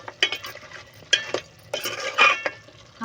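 A spoon stirs salt and chilli in a pan over a wood-fired stove, giving sharp metallic scrapes and clinks at irregular intervals with a faint sizzle between them, close and alone.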